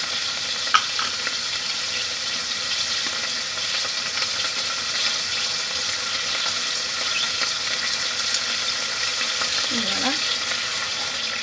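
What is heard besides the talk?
turkey strips simmering with crème fraîche in a frying pan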